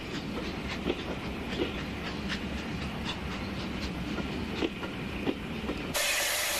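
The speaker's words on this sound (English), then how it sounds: "the sight and sound of a steam train over this spectacular line will hopefully be with us for many years" A steam locomotive works along the Settle and Carlisle line, a steady hissing rumble with faint rhythmic clicks of wheels over rail joints, heard alone at middle distance.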